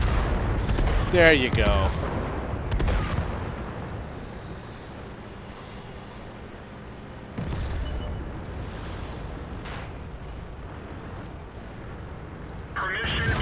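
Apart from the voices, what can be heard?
artillery strike explosions in video game World of Tanks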